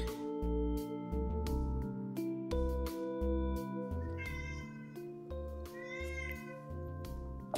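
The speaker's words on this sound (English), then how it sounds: "Cat." A cat meows in drawn-out, rising calls over steady background music, twice standing out clearly, with no talk.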